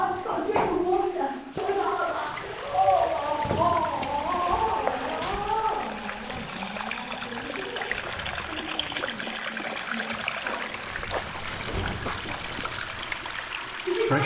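Filtered drinking water trickles and gurgles in short bursts near the start of an outdoor camp, fading into a quiet hiss as a person speaks over it.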